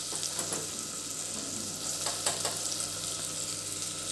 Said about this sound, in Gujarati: વેજીટેબલ આપણા બધા સરસ સંતળાઈ ગયા છે।